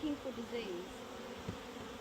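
Honey bees buzz around an open beehive, a steady, soft drone with individual bees whining past close by, their pitch rising and falling as they fly; a brief faint thump sounds midway.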